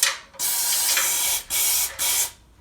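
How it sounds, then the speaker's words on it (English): Close aerosol spraying of Waxoyl rust-proofing wax into a vehicle chassis box section, in three long hissing bursts separated by short pauses, loud and steady, with no talking. "just keep spraying"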